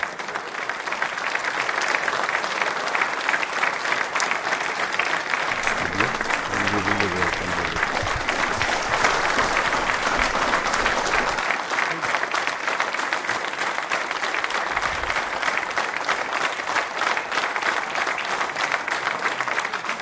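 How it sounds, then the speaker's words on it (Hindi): An audience at a televised Constitution of India quiz show applauds at length to honour guests, a dense continuous roar of many hands, with a few murmured voices briefly audible beneath it. "तालियां जोरों से बजाइए साहब, आप उनके सम्मान में"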